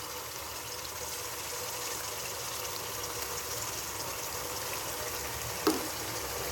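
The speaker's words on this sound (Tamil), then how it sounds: "போட்டு நல்லா வதக்கணும்." Ginger garlic paste sautéing with onions in a pan for mutton biryani, a steady, even sizzle and hiss running throughout with a single brief clink near the end, no talk.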